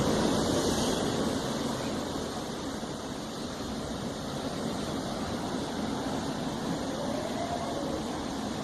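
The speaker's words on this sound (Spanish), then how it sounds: "El mar de fondo." Sea waves play in the background of a video. A steady, broad rush of surf and wind carries on throughout, with no voices.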